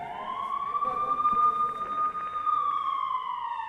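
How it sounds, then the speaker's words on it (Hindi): Air raid sirens wail steadily during a rocket attack in Sderot, Israel, a sustained, slowly rising tone carried over distance with faint background noise and no talk. "जहां पर एकाएक सायरन बजते हैं और लोग जहां तहां शरण लेते हैं"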